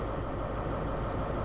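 In a Train Simulator game, a BR Class 43 HST diesel train in LNER livery idles on the Riviera Line, giving a steady low rumble in the background with no talking.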